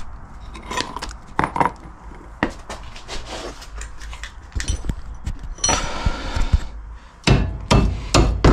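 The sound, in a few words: hammer striking car brake disc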